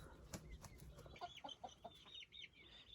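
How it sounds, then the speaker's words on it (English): Chickens and chicks on a homestead at dusk with turkeys nearby, soft clucks and high peeping chirps scattered over a few seconds, faint and somewhat distant with light rustling. "You can see all the turkeys and chickens. You can hear chicks in the background."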